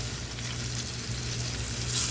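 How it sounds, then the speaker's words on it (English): Oxtails searing in a hot pan on a stovetop turned up near medium-high, a steady loud close sizzle and crackle of frying meat throughout, with no voices. "Now I want them to get that sear."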